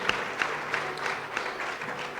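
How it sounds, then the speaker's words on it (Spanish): A church congregation applauds, with even, sustained clapping from many hands and a few louder claps standing out near the front. "él merece un aplauso"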